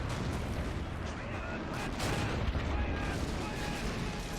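Rapid artillery guns firing in a World War II battle at Seelow Heights, 1945, in the real-time strategy game Men of War: a dense, continuous roar of overlapping booms and gunfire, loud and steady with no pauses.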